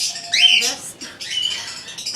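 Birds squawk in an animal care enclosure, harsh high calls in uneven bursts close by over a steady background of noise.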